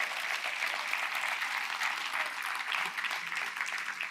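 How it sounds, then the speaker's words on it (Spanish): A church congregation applauds together in a dense, even wash of clapping that holds steady for about four seconds, fairly close and without voices over it. "Un aplauso a Dios bendito."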